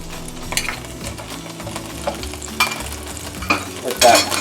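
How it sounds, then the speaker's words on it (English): A couple tablespoons of butter hit hot beef-seasoned oil in a pan, giving a crackling sizzle with scraping stirs and light clinks of a utensil against the pan, uneven and close. "So to that oil, you're going to add a couple tablespoons of butter"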